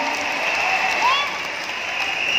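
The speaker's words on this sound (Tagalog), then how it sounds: "Pumalakpak naman kayo at mag-yes kayo pag kayo yun" An audience at a business lifestyle talk claps, giving a steady wash of applause that fills the room while a voice carries over it.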